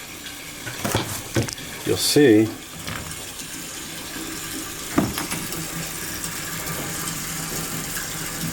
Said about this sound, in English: we're putting water in a water tank to try to give us some ballast to get us level again